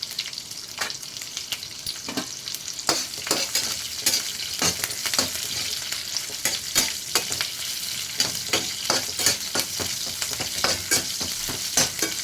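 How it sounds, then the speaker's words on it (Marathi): Cumin, curry leaves and chillies sizzle and crackle in hot oil, a dense spattering hiss broken by frequent sharp pops and stirring scrapes, close and continuous. "तेल तापलेलं जिरे घालायचे कढीपत्ता घालायचा मिरच्या घालायचे"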